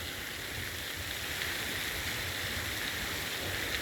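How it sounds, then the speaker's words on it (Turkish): Water in an artificial lake churned by an aeration system, giving a steady, dense splashing rush that holds constant throughout without pauses or voices. "Suyu da böyle havalandırıyorlar."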